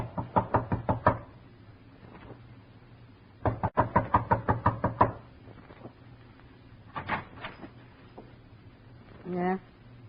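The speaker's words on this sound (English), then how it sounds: "Knock. You better stand back." A radio drama sound effect of knocking on a door: two quick bursts of about six sharp raps each, then a few softer knocks, close and clear with a low hum underneath.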